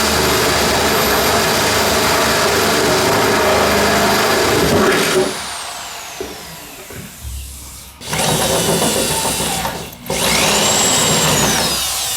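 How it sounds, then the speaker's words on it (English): A loud, steady power drill whines continuously while drilling through a PT Cruiser's floor pan, bogging down briefly mid-way and cutting out twice before resuming at full speed. "get yourself exposed to where you're gonna be drilling through the floor pan of this car"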